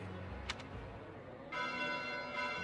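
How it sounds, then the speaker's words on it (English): Bells tolling at night in the video game Fire Emblem: Three Houses, a clear ringing peal with sustained metallic overtones that swells louder partway through, set over a low ambient game backdrop. "Bells? This late at night?"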